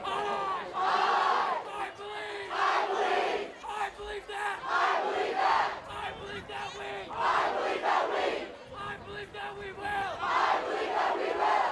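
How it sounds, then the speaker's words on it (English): High school students at a Durfee vs. Dartmouth football game cheer and shout as a loud, continuous crowd roar, swelling in repeated waves of voices throughout. "the Durfee students cheering"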